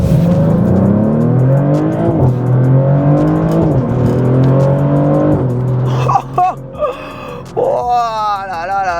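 A 550-horsepower Maserati GranTurismo Trofeo engine revs up in repeated surging pulls that climb in pitch and drop back at each gear change. Later comes a sharper burst with whooshing, and there are brief vocal gasps.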